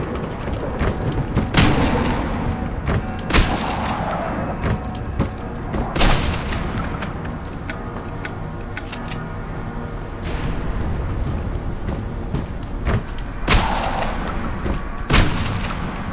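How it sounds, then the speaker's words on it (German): Gunfire in the horror shooter Total Chaos, with several sharp, loud broadband shots and booms spread over a rumbling game soundscape, no talking. "Also jetzt folgen wieder zwei Schüsse."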